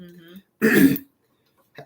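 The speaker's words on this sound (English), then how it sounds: "You'll still hear us coughing." A single short, rough cough or throat clear, close by, between brief bits of quiet voice.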